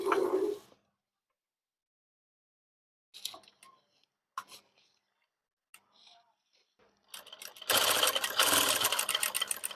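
A sewing machine stitches an alteration on a readymade dress. After a short spoken bit, it starts and stops in a couple of brief bursts, then runs in a loud, continuous whirring chatter close by.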